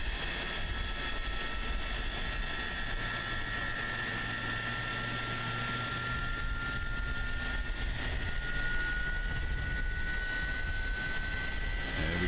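An Airbus A300 jet engine spooling up in Microsoft Flight Simulator, a steady loud whine with rising tonal hums over a constant roar, sustained for the whole stretch with no talk.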